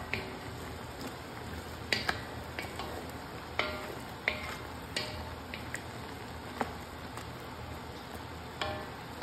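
Peppers are stirred into sealed beef in a pot for a Cuban-style beef stew: a soft continuous frying hiss with sharp spoon clicks against the pot at irregular intervals.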